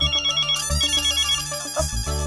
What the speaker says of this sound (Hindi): इसका फोन है मेरे अरे अय्यर भाई का फोन है